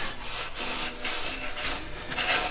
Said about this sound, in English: We usually take some like 3M Scotch-Brite pad or whatever, just to clean out the bore